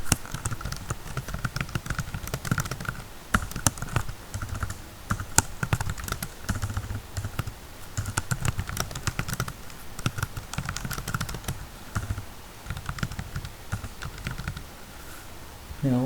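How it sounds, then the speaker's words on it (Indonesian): Typing on a computer keyboard, fast continuous close keystrokes with dense clacking throughout and a person speaking softly over it. "Sini aku ketik manual."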